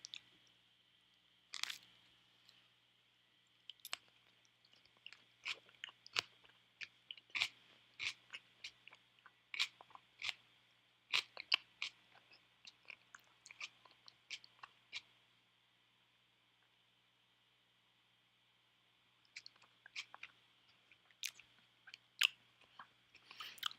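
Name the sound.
chewing a bite of kimchi with meat and peanut butter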